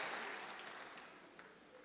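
A live audience cheers and claps in a dense, steady wash of noise that fades slightly toward the end, with a few voices rising out of the crowd.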